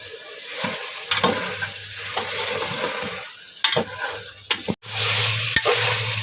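Potatoes and beef sizzle and fry in a pan with repeated scraping stirs, a steady crackle broken by brief clatters of a utensil.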